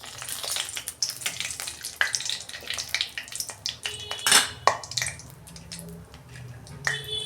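Bay leaves and four dried red chillies crackle and sizzle in hot oil for a Bihari-style chicken dish, a busy close-up fry with scattered pops and a few utensil clinks, no voices.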